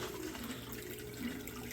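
Water runs from a tap into a basin, a soft steady low rushing stream with faint gurgling, fairly quiet and even throughout with no voices.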